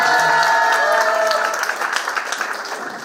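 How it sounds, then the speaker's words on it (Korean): Crowd applause from party members at a Seoul party rally for leadership candidates, a dense clapping wash that fades over a few seconds, with a voice and tones heard early on. "큰 박수 부탁드리겠습니다."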